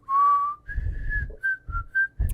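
Someone whistles a short tune from Star Trek: Picard, a clear near melody of a few notes: one longer opening note, then several short rising and falling phrases, with no one talking.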